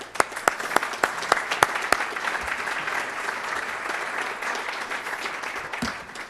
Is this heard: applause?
yes